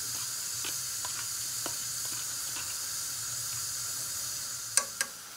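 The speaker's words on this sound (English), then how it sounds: "now the water's bubbling, we're going to add the rice" Water bubbles in a cooking pot with black cardamom, bay leaf and black jeera for mutton biryani, a steady faint hiss and simmer with a couple of sharp clicks near the end, no talking.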